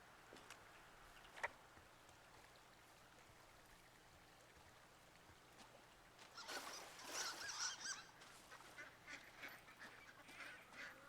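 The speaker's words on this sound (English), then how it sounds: "there is ducks out here" Waterfowl calling in the video game Firewatch, a burst of overlapping honking and quacking that builds midway and continues over a soft outdoor stream ambience, moderately distant.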